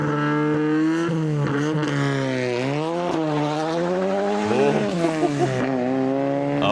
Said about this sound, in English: Hell yeah, look at those power slides.